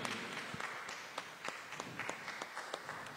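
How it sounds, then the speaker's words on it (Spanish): Quiet applause from a small Catholic Mass congregation in church for a birthday, soft scattered clapping heard at a distance with uneven, sparse claps. "Un aplauso para Carlos."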